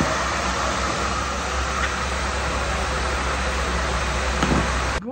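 A hair dryer runs at full power on hot air, a loud, steady rushing roar that holds constant for several seconds before cutting off abruptly.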